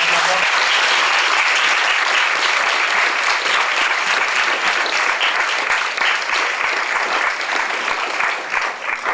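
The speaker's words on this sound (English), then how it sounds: "can I have a big round of applause for those ladies?" Dense, loud audience applause for a group of women, steady clapping from a crowd that fills the whole stretch without pause.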